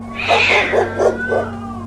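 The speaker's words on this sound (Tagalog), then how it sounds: "may mga aso at pusa na pinag-aagawan ng isang nahulog na karne" Several snarling, yowling cat cries burst out in quick succession as cats and dogs fight over a piece of fallen meat outside a house. The cries are loud and close over a steady low hum.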